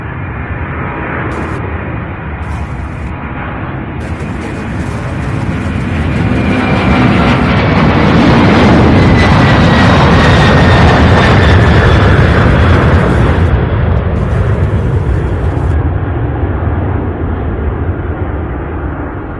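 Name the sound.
heavy cargo jet on runway 17 right at Louisville airport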